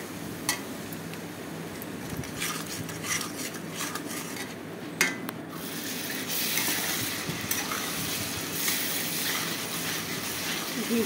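Spiced masala with Kashmiri red chilli powder sizzling in a pan, stirred after a splash of water, for a jackfruit and chicken curry; steady frying hiss with scraping utensil clinks and pot knocks throughout.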